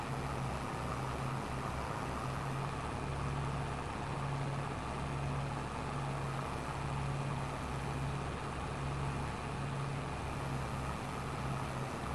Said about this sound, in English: Just listening to the hum of the tractor.